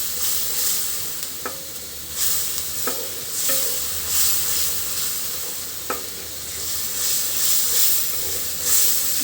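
Garlic-laced spice paste for a fish curry with Malabar spinach and potatoes fries in a pan, hissing and sizzling steadily while a spoon stirs and scrapes, with a few sharp clinks against the metal.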